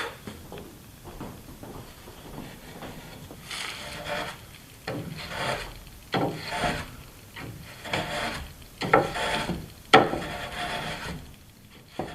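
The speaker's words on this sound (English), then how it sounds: "Here I'm using a skew chisel, or what the Japanese called an isuka nomi, to chamfer the ends of the tenon" A Japanese skew chisel, an isuka nomi, pares chamfers on the tenon ends of avodire wood for a bench, giving close, repeated scraping and shaving strokes that build into denser bursts.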